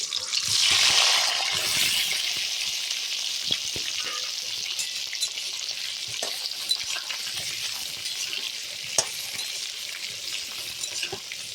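Boiled potatoes frying in hot oil for aloo dum, a steady bright sizzle with stirring and occasional clinks of a utensil against the pan, close and continuous throughout.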